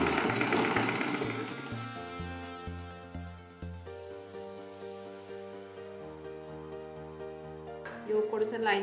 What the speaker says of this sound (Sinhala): ලයිනින් කොටසත් පිටුපස පළුවේ යෝක් කොටසත් එකමත් එක තබා ඉන රේඛාව දිගේ මැෂින් කරගන්න.